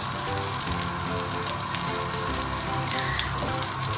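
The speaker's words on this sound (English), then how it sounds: "I cook the meat for 2 minutes, 5 minutes, just the side of meat" Saltimbocca meat sears in a frying pan, giving a steady, close, continuous sizzle at an even loudness throughout with no talking.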